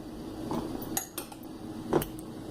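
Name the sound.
smashing boiled chickpeas in a pot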